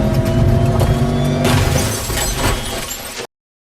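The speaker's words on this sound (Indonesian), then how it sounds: "akhirnya dengan sadar menabrakkan mobilnya ke pohon" A car engine roars, then a loud crash into a tree with shattering glass and crunching debris, ending in abrupt silence.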